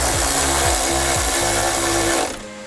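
Power tool tightening a camber arm bolt on a Honda CR-V: a loud, close whirring buzz with a few stuttering pulses, running steadily before winding down at the end.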